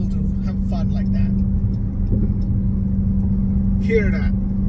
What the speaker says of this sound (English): Hear that roaring exhaust.